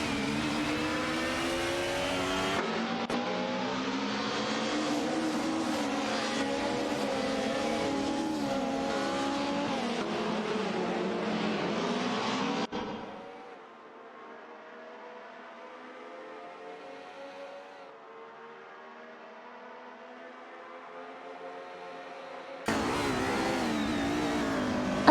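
Race cars battling for position on a track, engines revving and accelerating loudly with shifting pitch, dropping to a quieter distant drone midway before a loud car roars back in.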